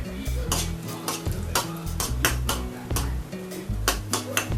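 Raisins frying in a pan, likely in ghee, with a steady sizzle under repeated metallic scrapes and taps of a spoon stirring against the pan in an uneven rhythm.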